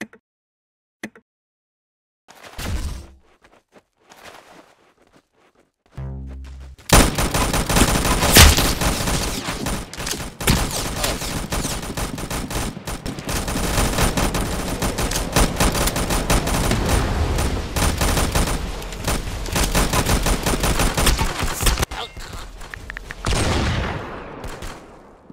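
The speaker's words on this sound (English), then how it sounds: "That's some beautiful shooting right there." Sustained gunfire in an online shooter video game: a few isolated loud shots, then a dense, nearly continuous barrage of rapid firing for about fifteen seconds, tapering off near the end.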